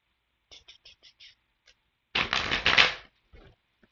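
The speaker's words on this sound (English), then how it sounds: "let me do some really good shuffling." Several quick tarot card riffles, then a longer, louder burst of tarot cards being shuffled, followed by a few soft flicks; no talking.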